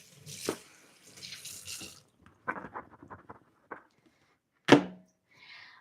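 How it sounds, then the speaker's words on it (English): Tap water runs and splashes in a kitchen sink while potatoes are rinsed, with intermittent bursts of flow and a sharper splash near the end, fairly quiet and with no talking. "I'll try to wash my potatoes."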